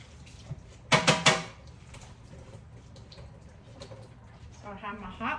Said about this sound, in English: Then my handy dandy little fetcher, I'm gonna rinse it off.